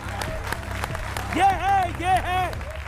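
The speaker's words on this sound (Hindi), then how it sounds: "तालियां इनके लिए।" Audience at a televised debate claps in scattered bursts, then breaks into loud rising whoops and cheers that come in several waves over the clapping.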